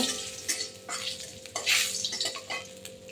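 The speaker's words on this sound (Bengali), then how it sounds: "দিয়ে দেবো তেজপাতা দেবো সামান্য জিরে এবার এটাকে একটু লাল লাল করে ভাজা করব" Bay leaf and cumin seeds frying in a little oil for a chicken curry, soft sizzling broken by repeated scraping and clinking of a utensil stirring in the pan, close and fairly quiet.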